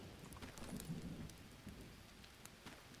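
Steady rain falling in the survival video game Green Hell, a continuous soft patter with a few louder drops, no talking.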